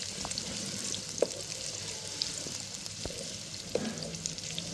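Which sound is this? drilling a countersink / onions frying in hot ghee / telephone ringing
onions frying in hot ghee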